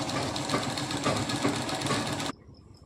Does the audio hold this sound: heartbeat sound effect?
no